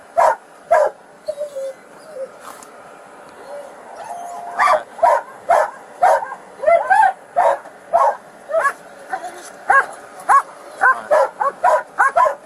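A police dog barks repeatedly and excitedly at a felony traffic stop, loud and near. The sharp barks come in rapid steady bursts, with some yips and whimpers between them.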